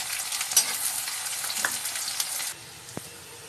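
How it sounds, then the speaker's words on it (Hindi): Onion fries in hot oil with ginger and garlic, a dense close sizzle with a few stirring scrapes, then the hiss drops to a quieter simmer partway through, followed by a single utensil tap; nobody talks. "और अब इस तेल में हम थोड़ा सा प्याज डालेंगे।"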